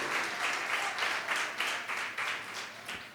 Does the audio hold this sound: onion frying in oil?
no